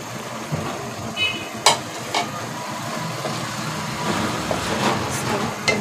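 Bitter gourd and gram lentils are stirred in a pan while they cook. A utensil scrapes and clicks now and then over a steady low sizzle, with no voices.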